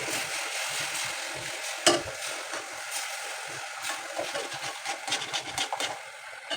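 Food sizzles and fries in a pan while a utensil stirs it with repeated scraping strokes, a steady crackling hiss throughout with one sharper knock near the start; no one speaks.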